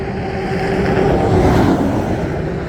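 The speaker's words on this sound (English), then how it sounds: "Let me let this truck pass by." A truck rolls past on a rural Oklahoma road, a steady close engine drone and tire rumble that swells slightly mid-pass, heard alone with no voices.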